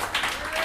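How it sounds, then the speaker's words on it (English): A burst of audience applause at a theatre tribute to Jimmie Rodgers, dense clapping from a crowd filling the room, brief and fairly loud. "Let's give a round of applause to Ronnie Ferguson as well for being our narrator for tonight."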